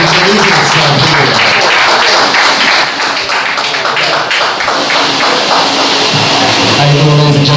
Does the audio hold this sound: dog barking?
no